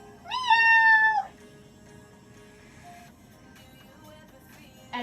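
A person's voice imitates a cat's meow during a children's movement storytime: one loud, drawn-out meow rising and falling, followed by a quiet room with faint background sounds.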